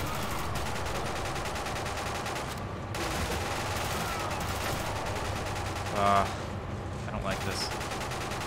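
Gunfire from enemies shooting at the player in the Quantum of Solace video game on PC: dense, continuous rapid shots with bursts and a few louder cracks, while a player speaks over it.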